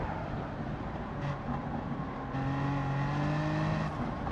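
Race cars in a racing video game closing in from behind, a steady engine drone rising in level partway through as the pursuing cars draw nearer, with sustained tonal whine and no talking.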